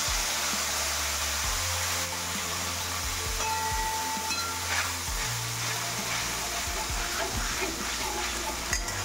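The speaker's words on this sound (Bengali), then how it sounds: "এইবার ঝোলটা আমি ফোড়ন দিয়ে দিচ্ছি।" Whole spices, bay leaf, coriander, cumin and green chilli paste tempered in hot oil for a rohu fish curry, giving a steady close sizzle and fry with a few stirring scrapes throughout, no voices.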